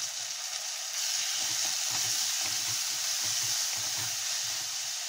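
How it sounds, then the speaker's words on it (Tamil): Onions and ground onion paste sauté in a pan for a Tamil-style fish curry, giving a steady, close sizzle with soft crackle that swells slightly after the first second and holds on its own. "வெங்காயம் கொஞ்சம் வதங்கட்டும்."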